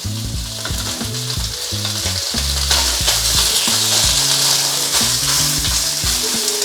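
Beef strips searing in hot oil in a wok for a Cantonese-style crispy birds nest dish, giving a loud, steady, close sizzle throughout, with faint clinks of utensils underneath and no voices.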